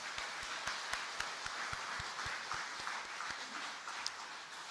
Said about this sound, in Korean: 큰 박수 한번 올려드리겠습니다